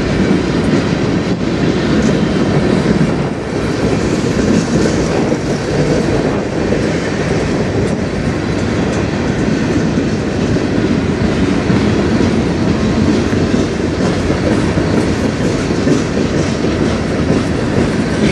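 A slow, short CN freight train rolls past on the Strathroy Subdivision, a loud steady rumble with continuous clickety-clack of wheels over rail joints, close by and unbroken by voices.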